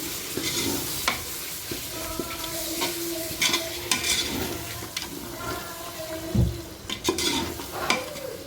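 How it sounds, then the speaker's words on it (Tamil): Masala being stirred in a pan for biryani, with close scraping and clinking of a spoon against the pan over a steady sizzle, in irregular strokes. "மசாலா போட்டு நல்லா கிண்டியாச்சு"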